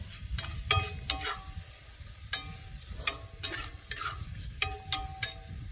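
Spoon stirring garlic powder into spicy diablo chicken taco filling in a pan, a string of short scraping clacks in uneven bursts over a soft low hiss.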